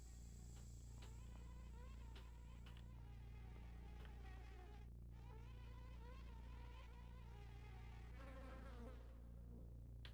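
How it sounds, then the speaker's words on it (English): A swarm of bees buzzing in a video game, a steady drone of many wings at moderate level that fills the whole stretch without pause, with no talking over it. "I heard the bee noise stop."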